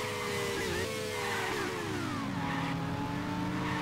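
Race car engine at 300 km/h in the PS2 racing game Racing Simulation 3, a loud steady high whine whose pitch bends and drops as the car lifts off for a corner, continuous throughout.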